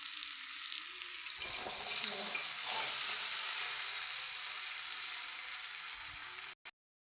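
Spices sizzling and frying in hot oil for a Bengali bata fish curry, a loud continuous crackling hiss with stirring that lasts about six seconds before stopping abruptly, with no talk.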